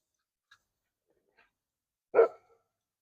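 A single sharp dog bark breaks an otherwise quiet moment, preceded by a couple of faint, tiny yips.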